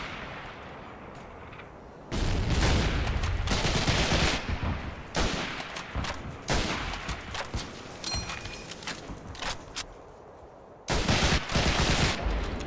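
Gunfire from the World War II shooter Medal of Honor: Heroes during an Operation Market Garden mission: a few loud, sharp bursts of shots with short quiet gaps between them, standing alone with no voices.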